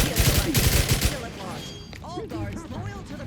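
Rapid bursts of automatic gunfire from The Outer Worlds 2 in a combat firefight, loud and dense at first, then thinning into sporadic shots and electronic whirs.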